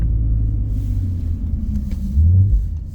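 An Infiniti Q50S with a 3.7 V6 passes close by, a loud, steady low engine rumble that swells briefly near the end, with no talking.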